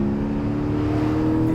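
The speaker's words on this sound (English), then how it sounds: "engine does sound every bit as good as we thought it would on the move" A 2020 Porsche 718 GTS 4.0 Boxster or Cayman on the move, its engine giving a loud, steady, close drone with a smooth even tone and no talk over it.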